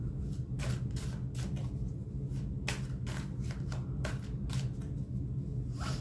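Tarot cards shuffled by hand while decks are changed, a steady run of quick riffling bursts and soft slaps, close and fairly quiet, with no talking.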